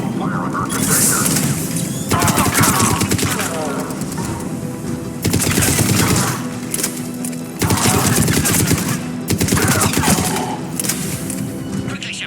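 Sustained bursts of automatic gunfire and explosions in a Mass Effect 3 checkpoint firefight, loud and continuous across the stretch, with voices talking over the shooting.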